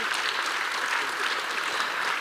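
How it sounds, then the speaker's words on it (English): An audience at the Inspire Africa Conference gives dense, even applause. The clapping is steady and moderately loud throughout and continues without a break, with no voices over it. "I think he deserves a round of applause at this point."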